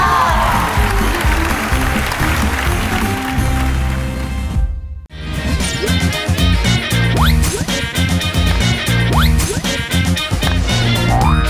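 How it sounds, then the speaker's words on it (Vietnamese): A game show studio audience claps steadily throughout, mixed with loud music, with a brief drop in sound midway before the applause and music resume. "Thưa quý vị, vỗ tay cho màn tiếp theo của 7 nụ cười."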